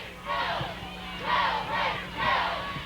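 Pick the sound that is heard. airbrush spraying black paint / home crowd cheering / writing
home crowd cheering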